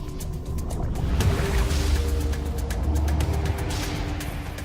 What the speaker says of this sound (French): Je mets le moteur en marche.